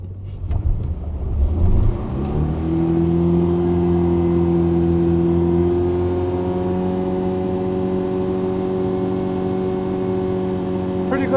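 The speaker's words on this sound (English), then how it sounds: "the 1st gear rev bouncing clutch dump" A Ford Ranger revving in first gear before a clutch dump: the engine climbs steeply from a low rumble to a sustained, buzzing high rev held for several seconds, loud and close with no talking.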